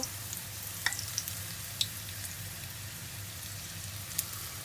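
Quail egg wontons fry in hot oil with a soft, steady sizzle and occasional small pops and crackles, heard fairly close.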